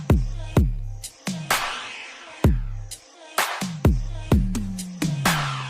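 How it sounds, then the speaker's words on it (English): Drum tom fill from a pop track: a run of about a dozen punchy, booming tom hits with decaying low tones, loud and close, spread in uneven bursts across the passage with no voices over it. "That is a tom fill"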